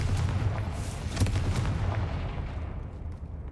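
The Confringo blasting curse explodes in the Hogwarts Legacy video game, a loud rumbling blast with crackling bursts that fades out over a few seconds.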